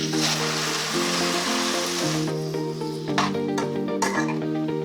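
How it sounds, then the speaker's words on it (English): Chopped pineapple and vegetables sizzle in a hot pan for a gochujang pineapple dish, a steady frying hiss under tonal background music with a few light clinks of utensils. "We're going to let that sizzle for about a minute or so"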